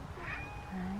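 A pet cat meows once, a short, close, fairly soft call that rises and then fades.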